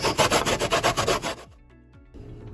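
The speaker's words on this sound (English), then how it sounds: "there's your half teaspoon of lemon zest" A backyard-tree lemon rasped against a zester for king cake: about nine quick rhythmic scraping strokes, close and fairly loud, then a sudden stop into near silence with a faint clink at the end.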